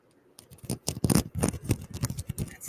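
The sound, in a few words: selenite crystal being handled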